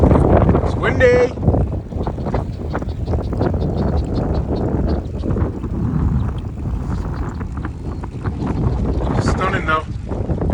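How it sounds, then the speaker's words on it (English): Strong wind buffets the microphone in a steady roar throughout, with a voice speaking underneath. "It's windy."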